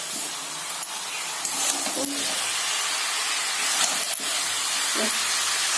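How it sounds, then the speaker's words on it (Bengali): Mutton pieces in a yogurt marinade fry hard in a pan for a Bengali mutton curry with potatoes, giving a steady, loud broadband sizzle and hiss with a few brief clatters, and no voices. "খাসির মাংসটা দিয়ে দেবো, দিয়ে আর ভালো করে কষবো, ভালো করে এবার কষাবো"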